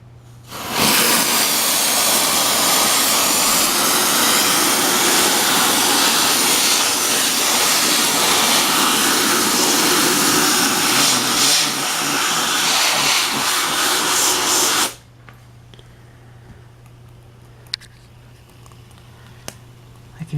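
A compressed air duster blasts a loud, steady hiss into the speaker of a portable 8 track player for about fourteen seconds, then cuts off to a quiet hum with faint clicks.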